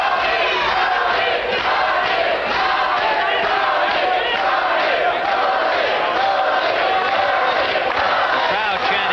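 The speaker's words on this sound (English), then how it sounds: "The crowd chanting Tony, Tony, Tony" Partisan boxing crowd at a professional title fight chanting a fighter's nickname in unison, a loud, continuous roar of many voices throughout.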